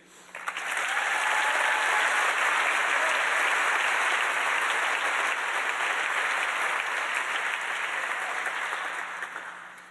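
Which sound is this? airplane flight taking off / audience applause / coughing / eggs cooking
audience applause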